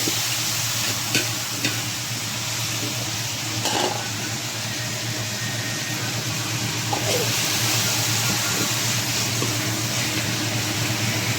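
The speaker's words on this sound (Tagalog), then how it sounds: "gisan natin yung ating binabad na pork chop" Overnight-marinated pork chop sautés in a hot pan, a steady close sizzle with an occasional clink of utensils and a faint low hum beneath.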